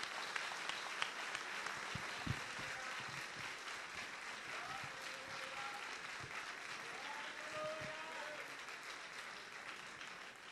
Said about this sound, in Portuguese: Uma salva de palmas para ser abençoado.